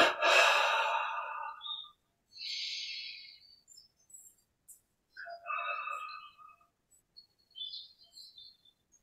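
Slow, audible breaths in and out during a guided relaxation exercise, close and soft, with a long exhale followed by quieter, intermittent breaths separated by silence.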